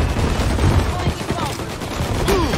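Gunfire in a video game: dense, continuous rattling bursts of shots that fill the clip, loud and close, with a few whistling or ricochet-like tones.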